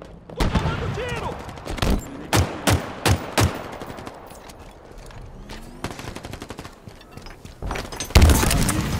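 Gunfire in the Halo Infinite multiplayer video game, with loud bursts of shots and a fast string of rapid rounds, then a heavy blast near the end, while a player talks excitedly over the action.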